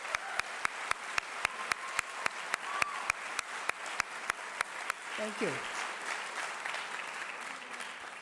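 A seated audience at a high school band hall-of-fame induction applauds, a soft steady wash of clapping heard at a distance. A regular clicking ticks through the first half, and a voice briefly says a few words partway through.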